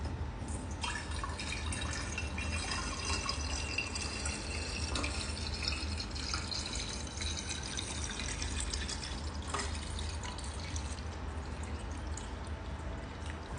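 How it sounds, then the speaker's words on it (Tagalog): Water being poured from a tap into a lidded jar for okra, a quiet continuous trickle and splash with faint drips, steady for several seconds with no voices. "At lalagyan nyo siya ng tubig. Lalagyan mo siya ng tubig. Pupunuin mo siya."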